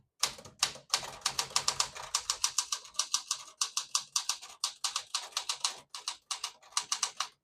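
A 1968 Smith-Corona Classic 12 portable typewriter being typed on, crisp close keystrokes striking in quick irregular runs with brief pauses, heard alone.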